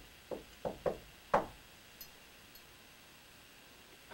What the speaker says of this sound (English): Can you do that again a little harder?